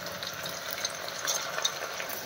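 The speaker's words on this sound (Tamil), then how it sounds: "இந்த கீரி போட்ட பிறகு பட்டப்பட்டன்னு சவுண்டு கேட்க பாருங்க" Leaves dropped into hot oil for mushroom biryani crackle and sizzle steadily, a close, bright spitting hiss with small pops throughout, no voices.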